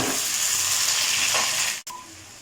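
Tomatoes dropped into a pan of frying kofta, setting off a loud steady sizzle and hiss that cuts out abruptly near the end before faint frying resumes.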